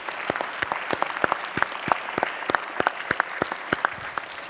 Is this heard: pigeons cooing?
no